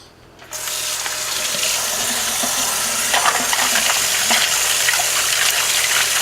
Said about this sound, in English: I'm going to wash them in just cold water.